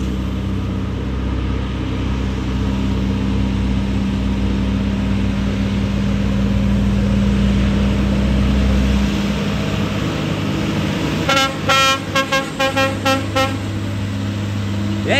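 A heavy truck's Cummins N14 diesel engine rumbles steadily at close range, its low drone dropping partway through, followed by a burst of rapid mechanical rattling.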